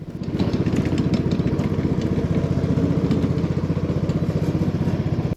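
A ride-on lawn mower engine runs at a steady, loud, close rumble with a fast rhythmic chug throughout, with no talking.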